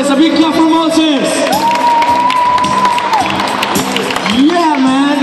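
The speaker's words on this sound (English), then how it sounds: "A big clap for Moses." A street-show audience applauds and cheers for a performer, a steady wash of clapping and whoops under loud, sustained shouting and talking voices.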